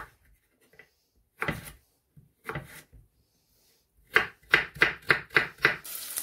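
A knife chops parsley into small cubes on a cutting board, a few scattered strokes at first, then a quick run of six or seven rhythmic chops.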